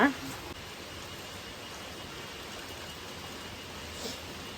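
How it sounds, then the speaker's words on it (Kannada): Heavy rain pouring down in Madikeri, a dense continuous hiss of falling water that holds steady throughout, with a faint knock near the start and a slight swell toward the end. "ಮಳೆ ಹೆವಿ ಬರ್ತಾ ಇದೆ."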